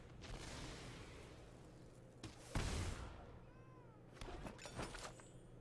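A cat meow from the card video game MTG Arena, a short plaintive cry amid quiet game effects, swooshes and a brief crash, fairly faint overall.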